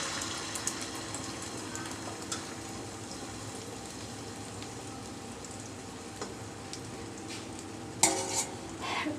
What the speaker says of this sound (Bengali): মিডিয়াম টু লো আছে এই অমলেটটাকে ভাজতে হবে